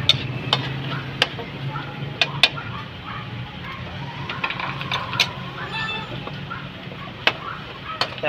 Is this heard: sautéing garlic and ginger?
yes